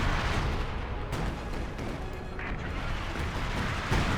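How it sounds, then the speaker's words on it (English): An artillery barrage comes down on the battlefield in Company of Heroes 2, a dense, continuous roar of overlapping blasts and rumbling explosions that stays loud throughout, with no voices. "the amount of artillery coming down to keep the Axis at bay"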